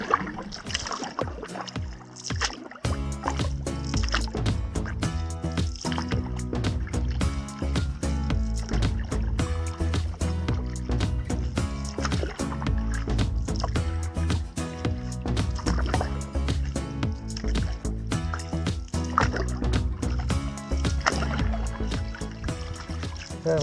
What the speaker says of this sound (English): Paddling into this little cove